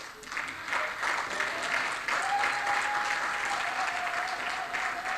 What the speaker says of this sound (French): pourquoi vous n'avez pas applaudi mon frère du Mali, là?